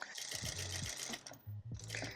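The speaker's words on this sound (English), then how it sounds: "we're just going to stitch that all the way down" A sewing machine runs in short bursts while stitching elastic thread down fabric for smocked elastic pants, its motor hum starting and stopping close by with brief pauses between runs.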